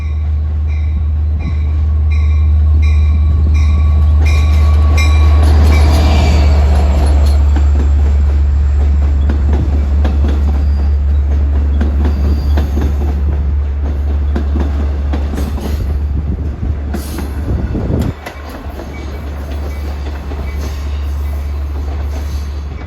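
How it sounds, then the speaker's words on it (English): An LIRR Main Line train pulls into Bethpage/Hicksville station on a sunny day, a loud diesel rumble with rattling cars, rising wheel squeal and rail clatter throughout, easing slightly near the end. "Approaching is train 80. Long Island City to Patchogue"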